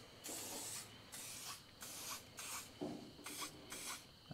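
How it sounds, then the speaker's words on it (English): Aerosol spray paint hisses in short bursts onto metal clamps fitted to a mini truck's raised bed floor, several separate sprays with brief pauses between them, close and steady. "as I paint my clamps"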